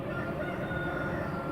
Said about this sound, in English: You can hear the cockerel in the background,